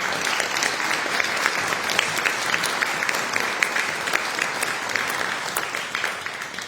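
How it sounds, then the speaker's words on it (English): A crowd gives a round of applause for a community festival organizer at a vocal quartet event in Michigan, sustained even clapping with occasional sharper individual claps throughout. "So I want to give him a round of applause."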